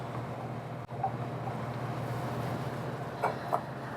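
An electric mixer whips butter with brown and granulated sugar for stuffed chocolate chip cookie dough, giving a steady, quiet low motor hum throughout with a couple of faint clicks and no talking.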